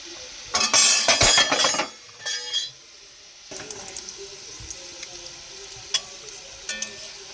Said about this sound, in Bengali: এবার ভাজবো আমি দ্বিতীয় ব্যাচ তখন ছোট ছোট পিস ভাজলাম এবার বড় বড় পিস